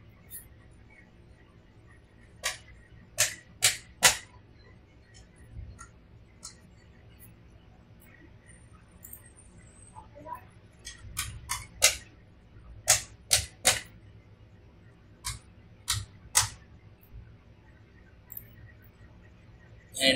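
Bursts of keyboard typing while a strong password with symbols is entered on a sign-up form, clicks coming in quick clusters with pauses between, fairly close and alone with no talk.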